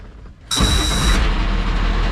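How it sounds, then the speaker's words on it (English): A Ford F700 dump truck's hydraulic pump kicks in abruptly after a quiet moment, bringing a loud, steady mechanical drone with a brief high whine over the engine that keeps running close by. "There's the pump going."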